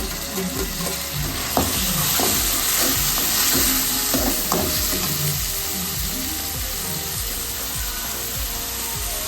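Fenugreek leaves frying in a pan with tomato being added, a steady close sizzle under repeated scraping and stirring strokes of a spatula, no voices.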